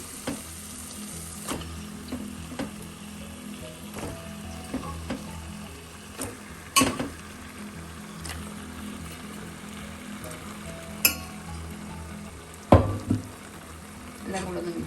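Marinated chicken added to a pan of softened tomatoes, frying with a steady low sizzle and occasional sharp clinks and scrapes of a stirring spoon, close and alone.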